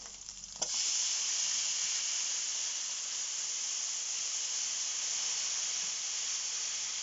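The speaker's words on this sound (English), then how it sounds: "balsamic vinegar. This is now going to deglaze the pan." Balsamic vinegar poured into a hot pan with halloumi deglazes it, bursting into a loud, close, steady sizzle and hiss just after a brief clatter, then holding constant.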